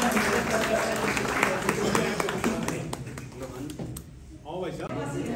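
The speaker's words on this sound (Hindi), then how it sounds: "हमारे लेखकों का एक बार जोरदार तालियां उनके लिए बजाइए" An audience at a Hindi literary event claps for writers, a busy patter of hands with voices mixed in that dies away near the end before talking resumes.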